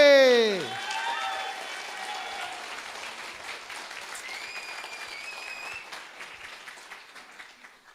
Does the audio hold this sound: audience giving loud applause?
yes